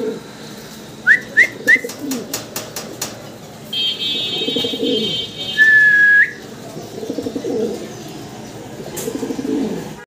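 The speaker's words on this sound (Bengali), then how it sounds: "red checker racer, red checker racer কবুতর" Red checker racer pigeons call in a row of short rising whistled coos, followed by a longer sustained whistle, nearby and fairly clear over a low background murmur.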